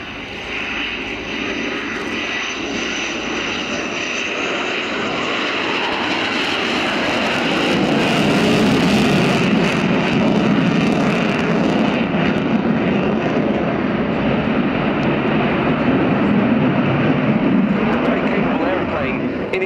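A Sukhoi Su-27 P1M fighter jet at the RIAT airshow gives a loud, sustained engine roar that swells toward the middle and holds steady, with a commentator talking over it.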